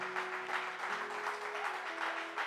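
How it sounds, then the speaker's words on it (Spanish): A church congregation claps steadily through a service, a dense wash of hands with faint organ or keyboard tones sustained underneath. "apláudele con gozo"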